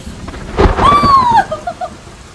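A close thunder clap during a rainstorm: a sudden loud crack and rumble bursting out of quiet rain, with a brief whistling tone sweeping through it before fading.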